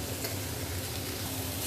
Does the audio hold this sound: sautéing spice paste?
yes